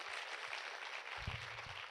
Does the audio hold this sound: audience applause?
yes